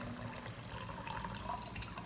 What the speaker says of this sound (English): pour this water in another beaker, okay, like this.